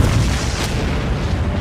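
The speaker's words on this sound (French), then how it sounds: "C'est l'explosion finale," Final explosion destroying the town of Sunnydale in the Buffy the Vampire Slayer series finale, a loud continuous rumbling blast with deep booming low end, heard alone without voices.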